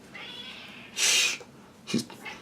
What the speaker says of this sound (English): Birdie, that's my cat, excuse me.